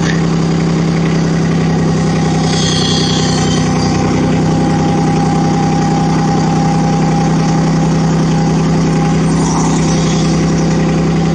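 Brand-new digger with a diesel engine idles loud and close, a constant low throbbing drone with steady vibration throughout and no talk.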